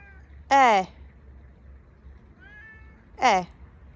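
Two clear, loud meows from a house cat spaced about three seconds apart, with a soft faint cry between them, set against a quiet indoor background in a mountain home.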